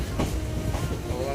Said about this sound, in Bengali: এখন ভগবানগোলায় ট্রেন ঢুকছে